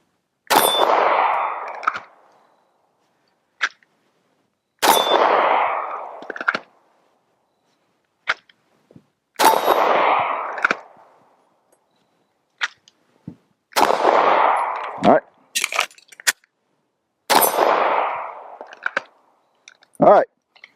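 Rifle shots ringing off steel targets, fired in spaced bursts of sharp cracks, each followed by a metallic clang and brief ring, loud and close with short silent gaps between strings.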